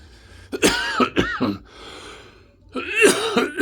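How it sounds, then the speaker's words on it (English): A man coughs and clears his throat in a few rough, close bursts, with a short quiet gap between them. "I'm still coughing from us being frozen in here for so long."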